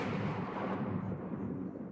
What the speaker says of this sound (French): il y a des éclairs, il tonne, mais le ciel est bleu sans nuages